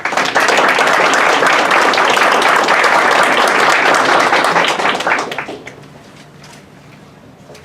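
Audience applause welcoming a speaker at an MLK observance at Camp Zama, Japan: dense, loud clapping from a crowd for about five seconds, then fading quickly to a quiet room.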